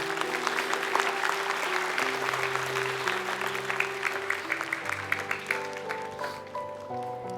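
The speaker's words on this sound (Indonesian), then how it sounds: "Tepuk tangan" A studio audience at an Indonesian Quran memorization TV contest claps steadily in a sustained round of applause, many hands patting over sustained background music tones.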